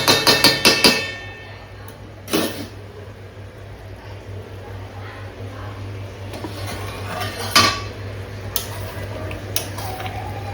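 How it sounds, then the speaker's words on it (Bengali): Masala for meat curry is sautéed in a pan, with a quick burst of metallic spatula clinks at the start, then sparse knocks and scrapes over a low steady hum, close by. "মশলাটা কষানো হচ্ছে"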